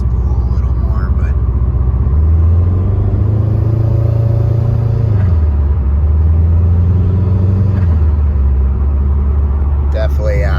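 A 2002-2007 Subaru WRX with a Cobb intake revs twice in the engine bay. A deep, loud engine drone climbs and falls under constant wideband rumble, and a faint whistle of turbo spool rides along with it.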